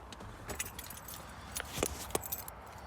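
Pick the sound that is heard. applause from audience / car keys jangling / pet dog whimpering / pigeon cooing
car keys jangling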